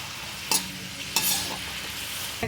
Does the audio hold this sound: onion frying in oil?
yes